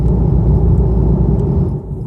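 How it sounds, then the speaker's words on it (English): Steady, loud low rumble of road and tyre noise from inside a moving Dodge Hellcat, a continuous dense drone with no breaks and no talking. "So driving here, we might be hearing some road noise"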